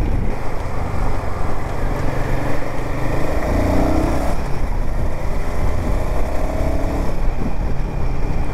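A Royal Enfield Himalayan 450 motorcycle ridden through city traffic, its engine droning loudly and continuously with wind rush and shifting revs, surrounding traffic blending in, no speech.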